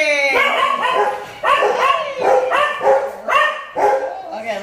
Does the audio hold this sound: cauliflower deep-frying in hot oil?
no